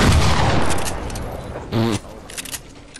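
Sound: gunfire in a video game

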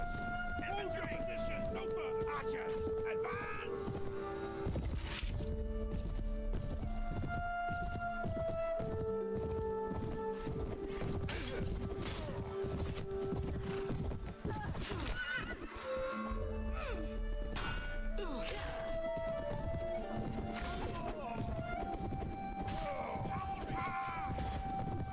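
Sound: horse hooves galloping in the video game Mount & Blade: Warband

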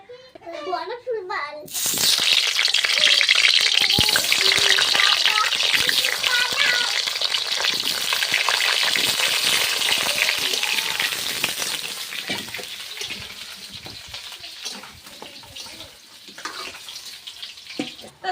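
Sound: potatoes frying in oil

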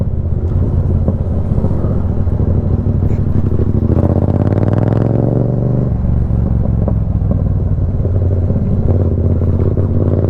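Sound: Yamaha MT-07 motorcycle with loud exhaust

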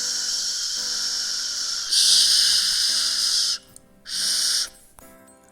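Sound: voice imitating wind hiss

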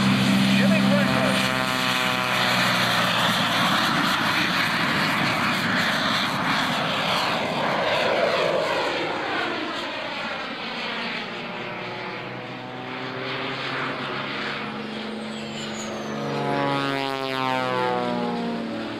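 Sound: propeller airplane engine at an airshow

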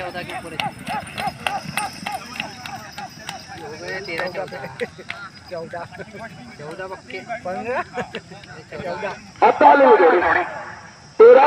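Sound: bullock cart race, bulls' hooves

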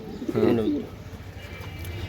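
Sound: club racing pigeons cooing

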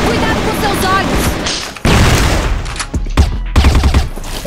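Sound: gunfire in the video game CrossFire

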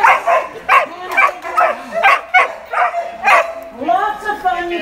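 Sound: dogs barking during a dog training session

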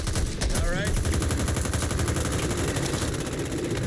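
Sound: gunfire in the video game Back 4 Blood

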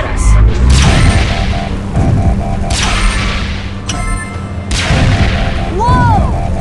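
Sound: gunfire shooting at the player in Transformers Rescue Bots video game

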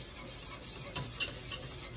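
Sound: whisking a thickening mixture in a pot

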